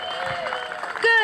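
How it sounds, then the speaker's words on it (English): Clapping for a child's red, white and blue bike parade entry at a town community day, a short burst of applause under someone speaking. "Can we give a big round of applause for Willem?"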